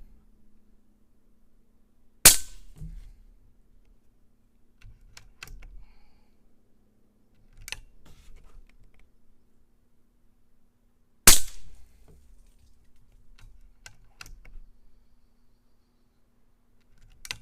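Taipan Veteran .25 air rifle firing at 55 fpe: two sharp, loud cracks about nine seconds apart, separated by quieter clicks and faint handling noises in an otherwise quiet room.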